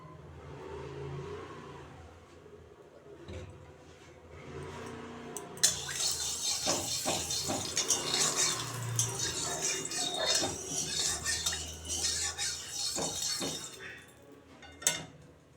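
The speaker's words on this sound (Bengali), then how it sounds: "সর্ষের তেল দিয়ে দেব।" Mustard oil poured into a hot wok: a quiet start gives way to a sudden bright hiss and crackle that holds steady for several seconds, close by, before fading near the end.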